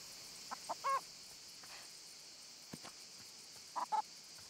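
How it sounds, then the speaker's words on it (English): A hen in the farming video game Everdream Valley gives a few short, faint clucks in two small clusters over a quiet background hum. "I don't know why this hen ended up over the fence."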